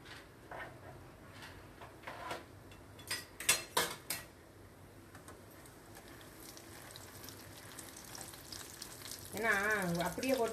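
A batch of homemade Tamil mixture snack fries in hot oil with a soft, steady sizzle. A few light clinks of a utensil against the pan stand out, and a brief voice-like sound comes near the end.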